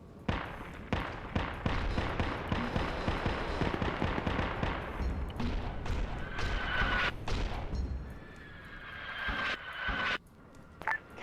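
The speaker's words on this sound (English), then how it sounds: "Counter mortars incoming." Mortar blasts and gunfire pound through a Warhammer 40K video game battle, with dense rapid impacts and sharp bursts crowding the first half before thinning into scattered, more distant explosions.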